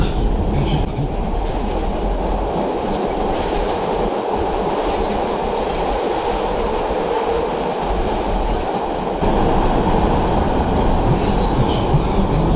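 Chicago CTA Blue Line train bound for O'Hare, a steady loud rumble of wheels and car noise running throughout, with a slight surge in intensity near the end.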